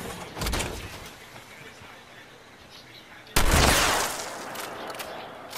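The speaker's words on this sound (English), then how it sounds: "I'm gonna shoot him with my shotgun." Shotgun fire in the Fallout 76 video game: two loud, sharp blasts, the first near the start and a heavier one about midway that rings out and slowly decays, with voice activity in the background.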